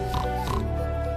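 A pig grunts and oinks twice in quick succession, close and clear, followed by a sustained low tone.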